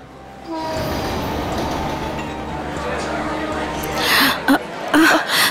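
A local commuter train rumbles steadily past, its horn sounding in long, loud blasts, and louder clanks and bangs come toward the end while voices murmur faintly in the background.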